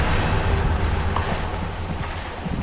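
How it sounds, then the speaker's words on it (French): Small boat paddled on the open sea off Tanga, Tanzania, with steady wash of waves and water against the hull, continuous wind noise buffeting the microphone throughout, fairly loud and close. "Allez, vas-y, pagaie."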